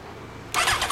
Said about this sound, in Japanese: そのエンジン音聞かせてもらえますか？